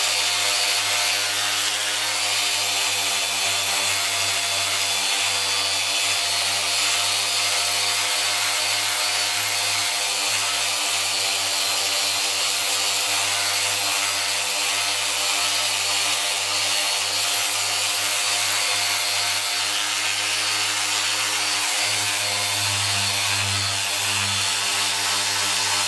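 A Porter-Cable power sander roughs down bad spots on a Yamaha RZ350 motorcycle gas tank, a loud, steady, close whirring grind that runs without a break and with no talk.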